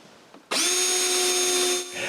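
A cordless power drill drives a screw through a tab into a window frame at a cabin. After a faint knock, a loud high whine runs steadily for over a second, then drops to a lower hum.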